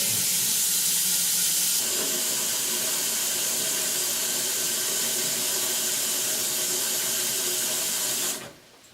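Cold water runs from a tap in a steady hissing stream, close by, the sound shifting slightly as a pot fills for boiling pasta, then cuts off near the end.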